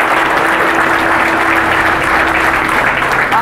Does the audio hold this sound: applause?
yes